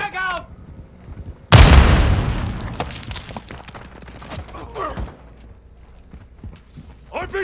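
A frag grenade in Call of Duty MWII online multiplayer goes off as one sudden heavy blast with a long rumbling decay, while scattered gunfire and shouting voices carry on around it.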